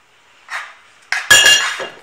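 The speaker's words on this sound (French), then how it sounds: "Je mélange tous les ingrédients secs ensemble" Dry ingredients for almond ghriba (blanched ground almonds, salt, baking powder and sugar) mixed in a bowl with a utensil: a few sharp, loud clinks and knocks against the bowl, coming in short separate bursts.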